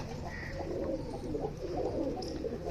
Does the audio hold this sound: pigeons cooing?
yes